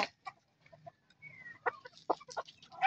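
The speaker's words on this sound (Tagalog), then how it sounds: "Matalino naman ang manok." A black chicken clucks in short, irregular bursts, close and moderately loud, with a brief squeaky note among the clucks.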